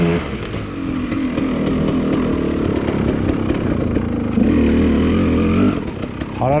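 Kawasaki KDX enduro motorcycle climbing a steep slope, its engine buzzing and revving continuously with rising intensity midway and a sharp upward rev near the end.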